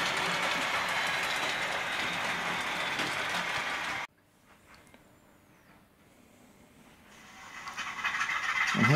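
A Bachmann class 46 model locomotive runs along its track in digital mode, a steady rolling whir that cuts out abruptly, leaving near quiet, then builds back up toward the end.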